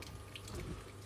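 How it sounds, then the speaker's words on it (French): Milk pours into a cooking pan in one short, soft, continuous splash of liquid at close range, with no voices. "je mets du lait"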